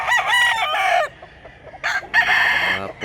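A rooster on a provincial backyard farm crows loudly and close, a long drawn call, a short pause, then a second crow.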